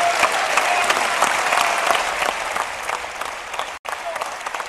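An audience at EVE Online Fanfest 2015 breaks into loud, sustained applause and cheering that fills the hall, with a brief cut near the end before the clapping resumes.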